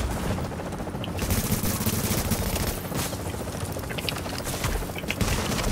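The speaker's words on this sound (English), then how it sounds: "He's using a shotgun" Shotgun blasts in an online shooter video game, several heavy shots spaced a second or two apart over a dense, constant roar of battle and gunfire.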